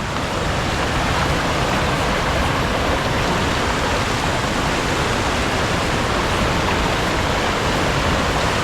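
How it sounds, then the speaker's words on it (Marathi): A powerful, unbroken roar of rushing water at a reverse waterfall near Ghevadeshwar temple in Bhor, loud and constant throughout like a waterfall close at hand. "पाण्याचा प्रवाह खूप जोरदार आहे"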